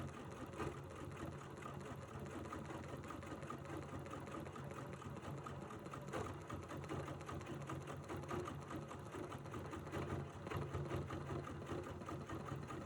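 Sewing machine stitching while couching fibers, a steady fast mechanical whir and needle chatter running evenly, close and fairly quiet, alone without talk.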